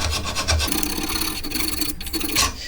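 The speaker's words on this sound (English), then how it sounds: "I'm using the edge of the file to kind of clean up inside the rest of the area" Metal file rasping rust off a Pontiac G6 brake caliper bracket, a continuous close scraping with repeated strokes and no talk.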